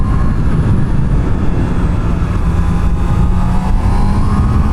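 A Honda CB motorcycle engine runs steadily and loudly close by, a constant rumbling drone with no voices.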